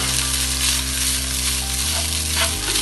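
Coconut rice with ghee and salt is sautéed in a pan, giving a continuous close sizzle and stirring noise over steady background music.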